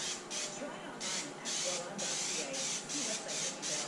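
Aerosol spray paint hisses onto an ATV's taped-off front upper A-arm from a Yamaha Raptor 660R, in about seven short, close bursts with brief gaps between them.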